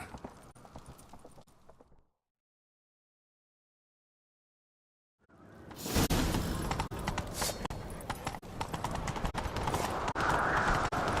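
Quiet sounds fade to silence, then a loud rush of rhythmic horse hoofbeats in Witcher 3 pounds in, galloping steadily and close amid clattering noise.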